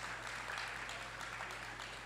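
Faint, distant applause for a speaker at a graduation ceremony, a steady wash of many hands clapping over a low hum, with no voices on top.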